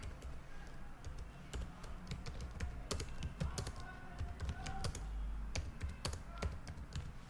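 Someone types on a computer keyboard in a quick, uneven run of crisp key clicks and taps, close and moderately quiet, with no talk.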